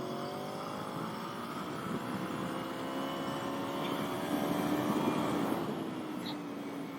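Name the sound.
2013 Aprilia Tuono V4 motorcycle engine on track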